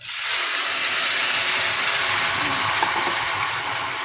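Marinated liver and gizzard drop into a hot pan of browned garlic, ginger and onion for Filipino adobo. A loud, steady hiss of sizzling grease starts at once and holds evenly throughout.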